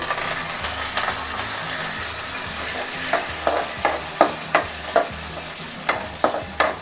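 Chopped onion and curry leaves sizzling in a pan, a steady frying hiss with a low stove hum, broken in the second half by regular scraping strokes of a spatula.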